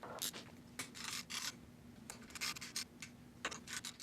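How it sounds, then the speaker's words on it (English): Screws are driven into a motorcycle auxiliary light bar bracket, giving short, close, scratchy grinding bursts in an irregular rhythm with brief pauses between turns. "set it on top of the bracket here, and then install all 3 of our screws"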